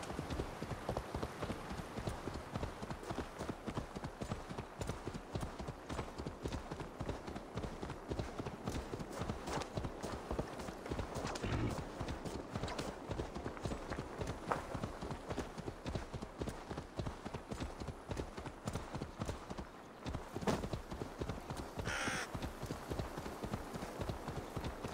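Galloping mount in Assassin's Creed Valhalla, a creature that runs like a horse, with steady rapid hoofbeats pounding close and continuous throughout, a brief bright chime partway through.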